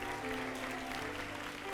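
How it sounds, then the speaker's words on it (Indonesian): Church youth congregation applauds its circle leaders with a brief, continuous wash of clapping at low level over a faint musical hum. "boleh nggak Jemaat Endisius kita berikan tepuk tangan untuk circle leaders"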